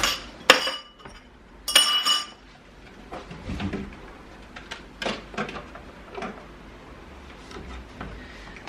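Dishes and cutlery clink and clatter as they are loaded into a dishwasher in a home kitchen, a series of sharp close metallic and ceramic knocks spaced irregularly with quieter rattles between.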